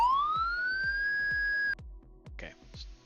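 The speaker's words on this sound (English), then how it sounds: "I actually use that to turn the siren on and off" A police siren on a converted mod vehicle in Farming Simulator 22 wails in a steady rising tone for nearly two seconds and then cuts off, leaving a regular low thumping pulse and a few brief clicks.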